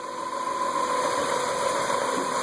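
A Honda H22A engine with a Skunk2 intake manifold and throttle body and no idle air control valve idles steadily, a continuous, even mechanical hum with a constant whine, close and loud throughout.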